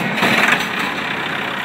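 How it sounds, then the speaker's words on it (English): A 1969 Allis-Chalmers 180 diesel tractor idling nearby, a steady, even engine drone with a slight rattle that holds constant throughout, with no voices over it. "John, we've got an Alice Chalmers this week, and it is a real good one."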